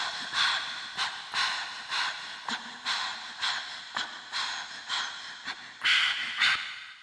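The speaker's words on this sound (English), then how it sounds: "I kind of wanted to emulate anxious breathing." Recorded anxious breathing used as a percussive layer in a Logic Pro instrumental: a steady run of short, close, airy breaths and sharp snort-like inhales repeating about twice a second, with no voice over it.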